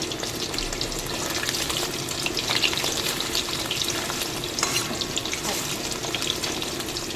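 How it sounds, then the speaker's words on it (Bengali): Oil crackles and sizzles steadily as paneer fries in a pan, a continuous close hiss with scattered pops and no talking. "পনির ভাজা করছি"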